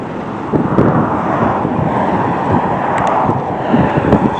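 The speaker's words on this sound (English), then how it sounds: "It's windy here." Strong wind buffets the microphone in a steady, loud roar, with a faint wash of ocean surf underneath; no one speaks.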